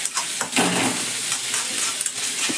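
Spicy masala noodles are stirred in a hot pan. A continuous close sizzle runs throughout, with scraping and stirring strokes marked by small clinks against the pan.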